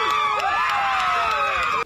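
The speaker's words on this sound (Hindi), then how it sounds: "अदालत के बाहर जमा हुई लोगों की भीड़ तालियां बजाकर और एक दूसरे से गले मिलकर" A crowd gathered outside a court celebrates the verdict in the George Floyd case, with shrill whoops and excited shouting layered over a continuous roar of cheering that stays loud until it cuts off.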